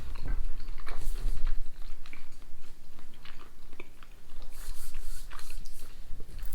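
Close, loud chewing of crispy, gooey caramel British sweets, with wet smacking and irregular crunchy bites continuing steadily throughout.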